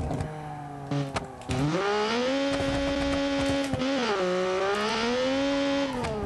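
A small three-cylinder car engine in BeamNG.drive, boosted hard, revs and holds a strained buzzing drone that dips and climbs again through gear changes, loud, close and continuous, with no talk over it.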